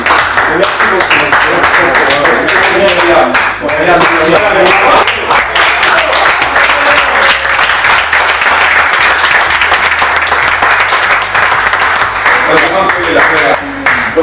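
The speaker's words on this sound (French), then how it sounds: "elle a eu plus d'applaudissements que moi" Loud, sustained applause and clapping from a crowd at a French gathering, dense and continuous for the whole stretch, with voices talking over and under it.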